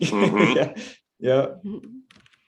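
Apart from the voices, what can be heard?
cat walking on a computer keyboard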